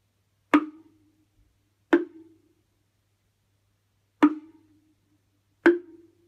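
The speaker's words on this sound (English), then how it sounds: "the log drum, which is like a very naive, small slip drum with only 2 notes" Four hollow wooden tones ring out alone, two different pitches alternating with pauses between strikes, each with a short resonant decay.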